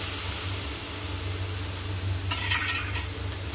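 Onion, capsicum and tomato fry in a pan for chili chicken: a soft steady sizzle with a brief scrape of a utensil against the pan partway through.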